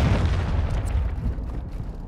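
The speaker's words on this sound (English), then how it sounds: "Friendly cruise missile deployed." A cruise missile strike in Call of Duty: Modern Warfare II, a heavy low rumbling boom that rolls on and slowly fades over two seconds, loud and dense with distant crackle on top.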